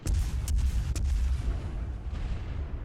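Ship guns in World of Warships boom a few times astern as deep, heavy reports with rolling low rumble between, loud and fairly close, with no talking.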